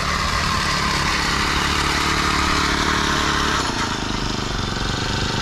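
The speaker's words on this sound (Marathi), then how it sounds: "एक आपल्या पिकातील तण काढण्यासाठीचं हे मशीन आहे." A small two-stroke or four-stroke weeding machine engine runs steadily and loudly throughout, with a rattling, buzzing drone close by.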